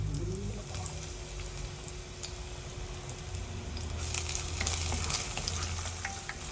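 Garlic and onion sauté in a pan on a stove, producing a quiet, steady sizzle that grows a little louder toward the end, with faint stirring clicks and no one speaking.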